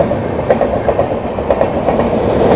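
The 12381 Howrah–New Delhi Poorva Express passing close by, loud rhythmic clickety-clack of wheels over rail joints with a steady rumble throughout, no voices.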